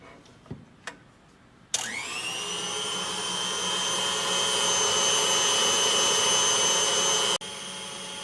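Electric hand mixer beating whipped cream past the soft stage toward butter, switching on abruptly into a steady, loud high-pitched whir that rises slightly in pitch and runs for about six seconds before cutting briefly, after a couple of faint knocks.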